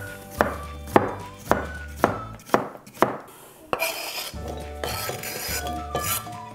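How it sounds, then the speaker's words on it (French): A kitchen knife chops a vegetable into quarters on a cutting board while a fattoush salad with avocado is being made, a series of crisp, evenly spaced thuds close up, with brief scraping between cuts. "je vais la couper en quartier"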